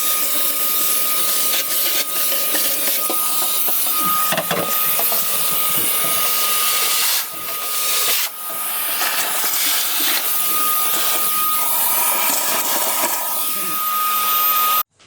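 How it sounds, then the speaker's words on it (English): A vacuum cleaner works through the interior of a Ford Falcon XF, a steady loud whine and hiss running continuously, with brief dips and bumps as the nozzle moves around. "I'm just going to give it all a vacuum and a clean up"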